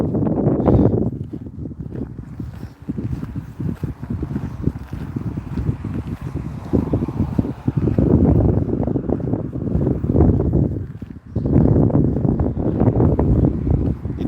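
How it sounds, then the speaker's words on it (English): Outdoor wind buffets the microphone in heavy, continuous low rumbling gusts that swell and drop, briefly easing before surging again, loud and close throughout. "It is a bit windy today, so I apologise."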